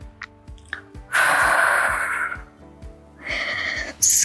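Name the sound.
deep breathing during a Pilates exercise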